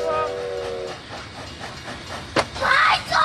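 Train rolling past with a whistle tone at the start, then rumbling and clattering, with a sharp hiss or clank near the end and a rushing swell.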